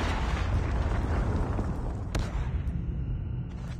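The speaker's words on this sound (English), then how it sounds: "Hostile predator missile inbound." A predator missile explosion in Call of Duty Mobile, a heavy booming blast whose rumble decays over a few seconds amid game noise.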